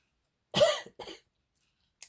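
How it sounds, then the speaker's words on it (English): Two quick coughs in succession, close and fairly loud, followed by quiet. "Everyone coughs nowadays"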